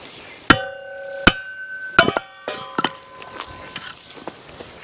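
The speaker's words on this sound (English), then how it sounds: "so we'll still use the 3-pound hammer." A 3-pound hammer strikes a kindling cracker to split soft cherry firewood, giving several sharp metallic blows with ringing overtones, spaced about a second apart and then quickening into smaller taps and the clatter of falling wood.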